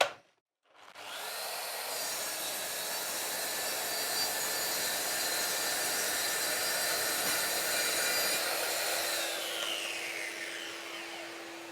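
Mafell MT55 plunge saw cutting through a workpiece, a loud, steady high-pitched whine that starts abruptly, holds for several seconds and then winds down.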